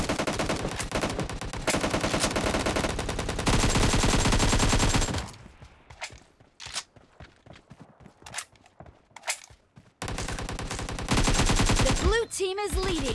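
Sustained machine gun fire in a shooter video game, loud continuous bursts that drop to scattered shots and footsteps midway before heavy firing returns.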